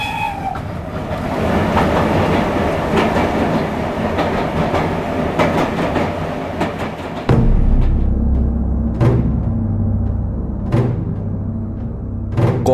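A train running at high speed, used as an audiobook sound effect: a loud, steady rolling rumble with rhythmic clickety-clack wheel beats, shifting to a deeper roar partway through, with sharp periodic clanks from the rail joints.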